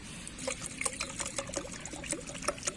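Water pours into the plastic bottle of a 100-watt electric spray gun, a steady trickling fill with small splashes and gurgles and no talking over it.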